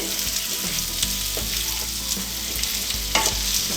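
Chicken pieces and onions fry in a hot pan while being stirred, giving a steady close sizzle broken by scraping stirs, with no talking.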